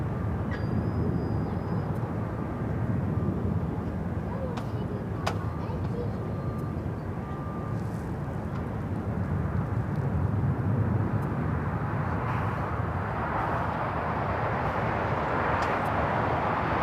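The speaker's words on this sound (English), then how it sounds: "Got Air Tahiti Nui, a Dreamliner coming in on the north side" An Air Tahiti Nui Boeing Dreamliner landing on the north side at Los Angeles LAX, a distant broad jet rumble that grows louder toward the end, with faint background voices.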